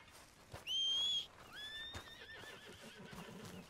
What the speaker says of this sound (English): Oh, where's my horse?